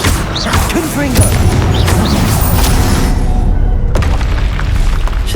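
In Hogwarts Legacy, a Confringo fire spell bursts with a loud, rumbling explosion amid continuous battle noise and crashing debris, heavy low booms rolling on throughout.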